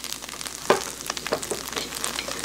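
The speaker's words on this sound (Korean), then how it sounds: "그래서 먼저 가지부터 볶아줄게요." Eggplant frying in plenty of oil in a pan gives a continuous close sizzle, broken by a few louder crackles and stirring scrapes as the pieces are tossed.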